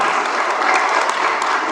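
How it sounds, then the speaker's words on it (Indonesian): Audience at a seminar applauding, a dense, steady wash of clapping hands from a sizable crowd, loud and continuous without a break. "Tepuk tangan buat ibu-ibu."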